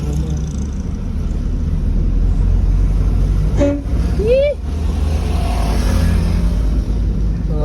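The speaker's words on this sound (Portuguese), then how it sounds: "Vamos dar mais uma buzinada aqui" A Volkswagen Saveiro's horn gives a short double honk with a rising note in the middle of the clip, cutting through a loud, steady backdrop of sound.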